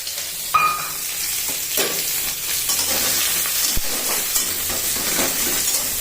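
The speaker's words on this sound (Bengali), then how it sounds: "এবার আমি পেঁয়াজ কুচি দিয়ে দেবো" Chopped onion is added to hot oil already tempered with bay leaf and panch phoron for a Bengali aloo posto and prawn dish. A sharp sizzle bursts out, then a steady frying hiss with occasional stirring scrapes, close and fairly loud, without talk.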